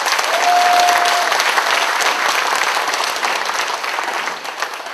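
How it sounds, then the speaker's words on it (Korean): Sustained crowd applause at a Gangwon provincial party rally, dense steady clapping from a large audience throughout, loud and near with a faint tone briefly audible early on. "큰 격려와 위로의 박수를 보내주시기 바랍니다"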